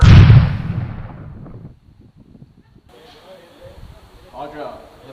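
A cannon fires at Fort De Soto with one loud, close boom at the start. Its heavy rumble fades over about two seconds, and quieter voices and movement follow.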